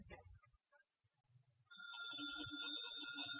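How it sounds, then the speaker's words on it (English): A telephone bell rings steadily and loudly in a home, a sustained electronic trill with bright tones that begins partway through after a stretch of speech and lingers alone. "telephone's ringing."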